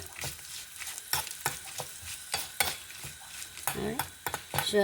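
Garlic, ginger and leaves fry in a pan for chutney, with sizzling crackle and repeated utensil scrapes and clinks against the pan in an uneven rhythm, close and fairly quiet.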